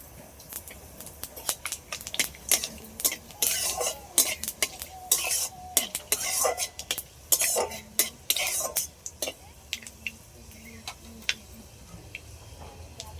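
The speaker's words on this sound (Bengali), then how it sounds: "কড়াইয়ের মধ্যে কিছুটা সর্ষের তেল দিয়েছি, এই তেলের মধ্যে দিয়ে দেবো অল্প করে একটু পাঁচফোড়ন।" Panch phoron crackles in hot mustard oil in a wok as a metal spatula stirs it, with rapid scraping strokes, clinks and a constant sizzle, close and fairly loud.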